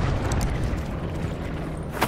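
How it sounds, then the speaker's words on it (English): A grenade detonating in Call of Duty Black Ops Blackout, heard as a sustained low rumbling roar of explosion and debris throughout, ending in a sharp crack near the close, with no talking. "No, I threw a grenade."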